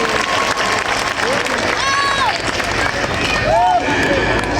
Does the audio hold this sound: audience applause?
yes